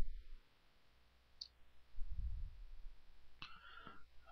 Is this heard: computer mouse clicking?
yes